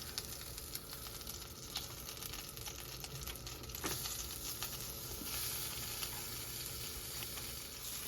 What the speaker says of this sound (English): I'm going to add some butter to this side.